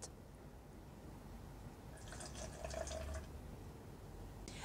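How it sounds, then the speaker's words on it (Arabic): Strained onion water is poured over a minced-meat tray bake, a quiet splashing trickle lasting about a second amid faint background hiss. "هننزل بعد كده عليهم بمية البصلة اللي احنا صفيناها مع بعض"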